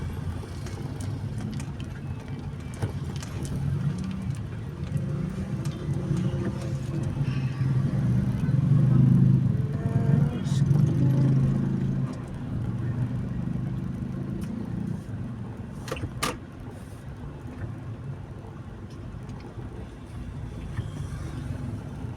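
Road traffic with cars on a potholed street after rain: a continuous low rumble of engines and tyres that swells in the middle and stays fairly close, with a few sharp clatters later on.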